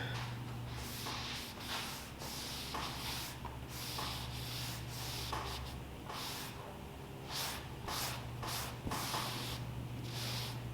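A wooden cutting board being sanded by hand with 220 grit sandpaper, steady close rubbing strokes repeating in an uneven rhythm over a low background hum.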